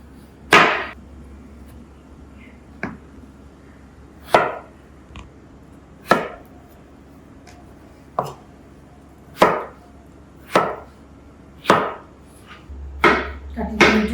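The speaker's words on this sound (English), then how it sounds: "এবার চলুন আলুগুলোকে আমরা কেটে নিই ছোট ছোট করে।" A knife chops potatoes into small cubes on a cutting board, about a dozen crisp, close knocks at an uneven, unhurried pace, with quiet gaps between the strikes.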